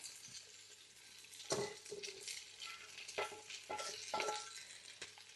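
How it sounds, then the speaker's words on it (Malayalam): Fried chicken and bacon hit a hot pan with vegetables and are stirred, quiet sizzling broken by repeated scraping and clinking of a utensil against the pan. "ഇനി നമുക്ക് നമ്മുടെ വറുത്ത ചിക്കൻ്റെ ഇടാം. നമ്മുടെ ബേക്കണും കൂടി ഇടാവേ."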